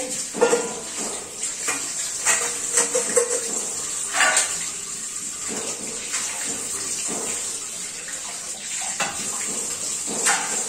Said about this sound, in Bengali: আমার যে কয়টা এখন দরকার বাসন আমি ধুয়ে নিলাম